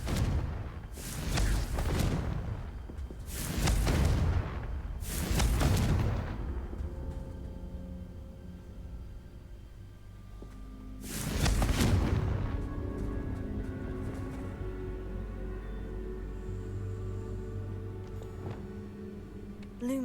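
Confringo spell blasts in Hogwarts Legacy, four heavy booming explosions in quick succession then a fifth after a pause, each with a rumbling tail fading into ringing game ambience.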